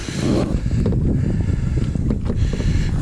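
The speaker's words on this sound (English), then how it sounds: "let's see if we can get in here without falling over and killing ourselves in this 75-mile-an-hour wind" Strong wind of around 75 mph roars across open water beside a Big Rig HD FD craft, a loud, steady buffeting rush with gusty surges and heavy microphone wind noise throughout.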